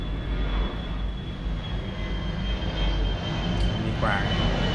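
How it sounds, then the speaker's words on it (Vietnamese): Airplane passing overhead, a steady broad rumbling roar that stays loud through the whole stretch, heard under someone speaking Vietnamese. "xin lỗi, máy bay hơi ồn chút nha."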